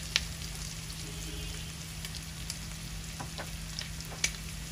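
Garlic paste frying in hot oil for a taro stem and shrimp curry, a steady close sizzle with a few sharp pops and spits, no talking.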